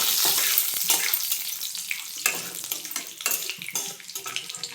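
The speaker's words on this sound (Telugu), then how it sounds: "దానిలో ఆవాలు, మినపప్పు వేసుకోవాలి ఫ్రెండ్స్. అవి కొంచెం ఫ్రై అయినాక" Mustard seeds and urad dal frying in a little oil in a kadai, a steady close crackling sizzle with small pops and spatters throughout, no voices.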